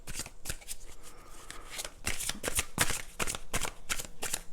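Oracle cards being shuffled by hand, a close, steady run of crisp riffling flutters and soft slaps repeating in quick bursts, with no voices.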